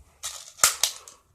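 A BB gun fires at close range, giving a few sharp snapping cracks within about a second, the middle shot the loudest.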